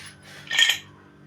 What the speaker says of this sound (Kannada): ಇವಾಗ ನಾನು ಕುಕ್ಕರ್ ಮುಚ್ತೀನಿ